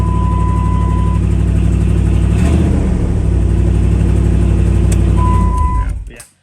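A 2008 Dodge 1500 pickup with no exhaust past the transfer case runs very loud, a harsh, rumbling engine drone held steady and close with slight revving before it cuts off abruptly at the end.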